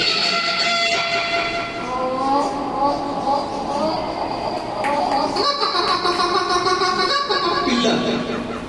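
A train passes, carrying the trip back to the home village, with a steady loud rumble and layered tonal whistle-like hums that bend in pitch, running continuously without break.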